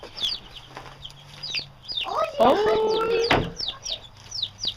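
A chicken clucks repeatedly in short, close calls over a farmyard, while small children and adults talk and exclaim nearby.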